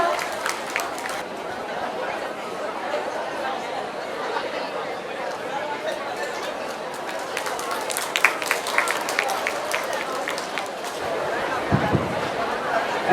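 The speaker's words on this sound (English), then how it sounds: "Please give her a huge round of applause." A crowd at a college youth festival claps for the first-place winner. A murmur of chatter and cheering builds into louder scattered clapping toward the end.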